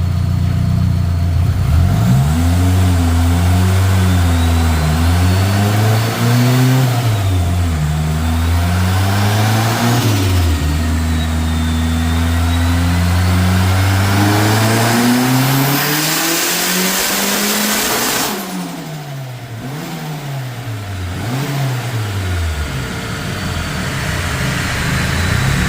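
A turbocharged KA24E engine on a dyno, revving repeatedly and loudly, then climbing through a long sustained pull with rising pitch, followed by falling and revving again, close and alone.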